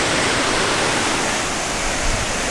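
A waterfall roars as a loud, dense, continuous rush of falling water close to the microphone, steady throughout with no voices.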